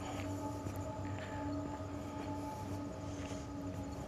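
A train rumbles steadily in the distance near Springwater Provincial Park, a constant low roar with faint tonal hums and no voices.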